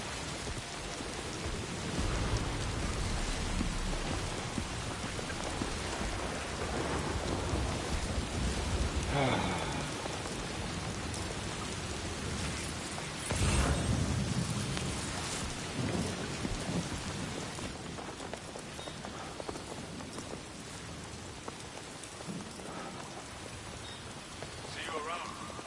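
Steady rain with repeated thunder rumbles fills a desert in Mexico in the video game Death Stranding II, a dense, loud downpour broken by heavier crashes around the middle, with some faint voice-like sound mixed in.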